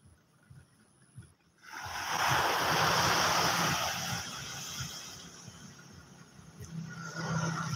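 Ocean surf rolls in at Pangandaran East Beach on a calm, clear day, starting quiet then swelling into a steady, broad wash of breaking waves with some wind noise, no voices.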